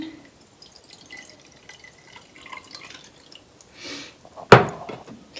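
Warm, slightly boiled saline water is poured into a neti pot, a faint trickle followed by one sharp splash and clatter close by in a quiet room.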